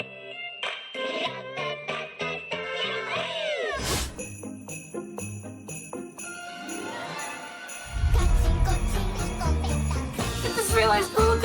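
A cartoon cat meows repeatedly in the video game Ratatan, with bright meows and yowls mixed into lively game music that grows louder and denser toward the end.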